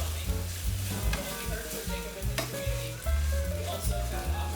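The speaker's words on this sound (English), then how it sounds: "so now I'm gonna sort of roast the rice" Dry rice roasting in a hot pan for Mexican white rice, crackling and sizzling loudly and continuously while a spoon stirs it, with repeated scraping pushes and a low rumble underneath.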